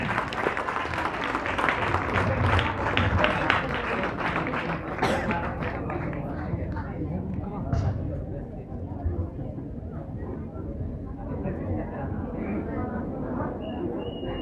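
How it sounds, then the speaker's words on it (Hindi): Applause at a football tournament prize ceremony welcoming a primary school team to the stage, loud clapping with thumps that fades into quieter crowd noise and voices in the latter half. "तो जोरदार तालियों के साथ इनका स्वागत किया जाए।"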